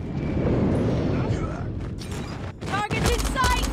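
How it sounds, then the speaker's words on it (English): Airstrike explosions in Call of Duty Mobile, heavy rumbling booms and crackling blasts layered with game noise, loud and close, with voices talking over them. "Friendly airstrike incoming"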